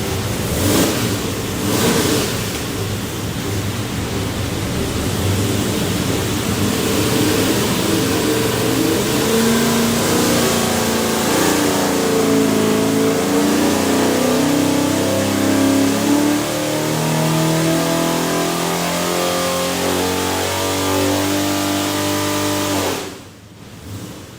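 A 489ci big block Chevy engine built for an airboat roars on a dyno, revving hard and climbing in pitch through a long, loud pull before cutting off abruptly near the end.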